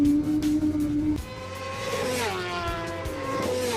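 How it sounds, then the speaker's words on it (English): A Kawasaki ZX10R race bike screams up through fifth and sixth gear at Red Star Raceway, loud and close. The high engine note drops sharply at each shift, then climbs again. "screaming up to fifth, sixth gear on that ZX10R"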